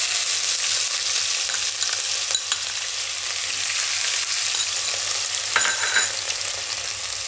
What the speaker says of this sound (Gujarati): હવે આપણે એમાં હિંગ નાખી દઈશું. અને આપણે આદું મરચાં ને લસણ એ નાખી દઈશું.